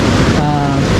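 A running mountain stream on a backdoor trail in Infanta-Labrador, Pangasinan: a close, loud, continuous rush of flowing water with wind-like noise over the microphone.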